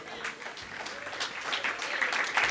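Short burst of applause from a church congregation at a Spanish-language sermon, moderate and somewhat distant clapping filling the space with a few voices underneath.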